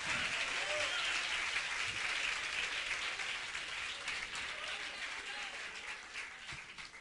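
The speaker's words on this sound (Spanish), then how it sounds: "Denle un aplauso al Señor, aleluya." Applause from a church congregation during an evangelical sermon, a broad, steady wash of clapping that slowly tapers off over several seconds, heard from a moderate distance.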